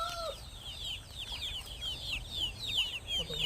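Farm roosters cluck and chatter in quick, repeated chirping calls over a constant hum of background noise, at moderate distance.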